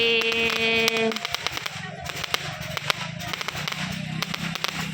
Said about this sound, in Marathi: फटाके बघा, फटाके फटाके.